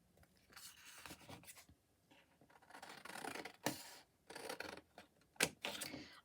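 Scissors cut through a piece of card at a papercraft table with Stampin' Up! supplies, making several close, quiet snips and scraping slides, irregular in rhythm with brief pauses.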